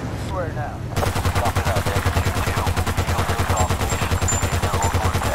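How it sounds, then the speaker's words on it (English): Rapid, evenly spaced bursts of heavy .50 caliber gunfire hammer at a fence in Battlefield: Bad Company 2, loud and close, firing continuously for several seconds after a brief lull. "Wasting military 50 caliber rounds just to destroy a fence"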